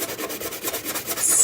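A hand block sander scrubs back and forth across a wooden surface in quick, even rhythmic strokes, close up and with no talking.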